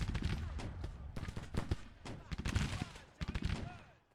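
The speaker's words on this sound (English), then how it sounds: "that's a Williams gun they brought up" Rapid repeated gunfire bursts from a Williams gun in a Civil War battle in Grand Tactician: The Civil War, sharp cracks in uneven clusters over a rumbling battlefield din, fairly close and loud.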